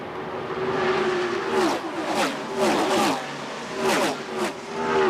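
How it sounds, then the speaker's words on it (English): NASCAR stock cars from the 1988 Diehard 500 roar past at Talladega Superspeedway, several loud passes with rising and falling engine whine in quick succession, close by, without talk. "What a ton of speed sounds like as it hurtles underneath you here."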